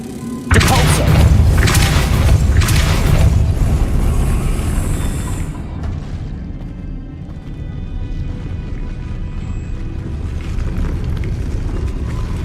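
The Depulso force spell is cast in Hogwarts Legacy: a heavy booming blast with a rumbling, crashing body lands loud and close, then fades into a low lingering roar over several seconds.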